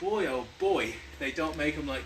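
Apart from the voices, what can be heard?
No everyday noises stand out.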